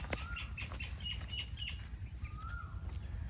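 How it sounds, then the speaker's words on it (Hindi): A koel calls a few times in a Pakistani village during a mango harvest, its rising notes faint and far off above a steady low outdoor rumble. "कोयल बोल रही है"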